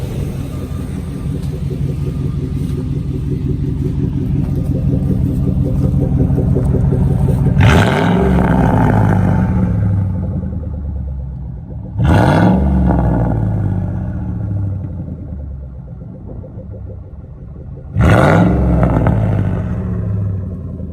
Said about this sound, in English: I'm gonna go to exhaust now.